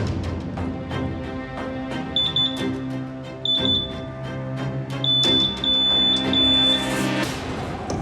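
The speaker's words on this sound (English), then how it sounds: "Looks like we've got an alarm for cocaine." An ion scanner narcotics tester at a border security inspection sounds its alarm for cocaine, repeated high electronic beeps in short trains over a busy background of clicks and machine tones, fairly loud and with no talking.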